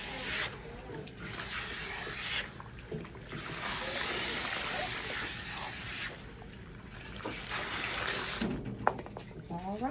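Water runs steadily from a tap while shampoo is rinsed out of hair, a soft, even hiss with brief pauses and shifts as the stream moves, fairly quiet and close.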